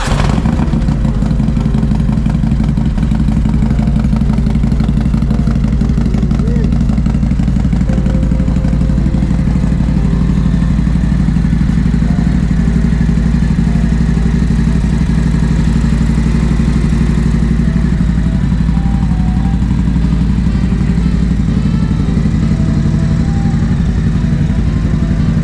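A Harley-Davidson motorcycle engine runs loud and steady at idle close by, its deep rumble filling the whole stretch with a throbbing low-end clatter and no talking.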